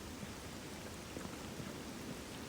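Steady rain pours in S.T.A.L.K.E.R. Gamma, a dense, even hiss of drops with a low rumbling undertone, continuous and alone with no voices.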